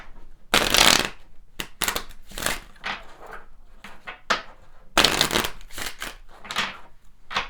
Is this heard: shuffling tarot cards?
yes